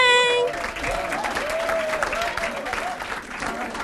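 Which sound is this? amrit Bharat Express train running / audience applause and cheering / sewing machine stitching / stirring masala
audience applause and cheering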